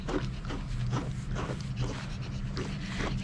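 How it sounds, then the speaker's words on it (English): A Pomeranian pants quickly and steadily in short rhythmic breaths, close up during a grooming session, over a constant low hum from nearby equipment. "This is my mom's favorite kind of dog, a Pomeranian"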